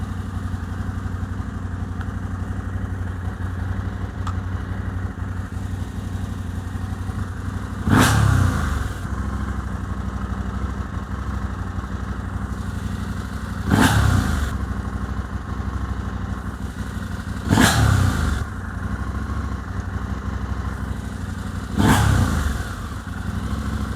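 KTM 890 Adventure R motorcycle engine idling steadily, broken by four sharp throttle blips spaced several seconds apart, each a short loud rev that quickly falls back to idle, heard close with no talk.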